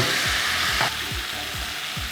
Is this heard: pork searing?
yes